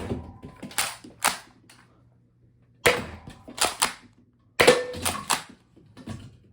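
A Nerf Rival Mirage blaster firing in three quick bursts of two or three sharp, close snapping shots each, with mechanical clacks and short quiet gaps between bursts.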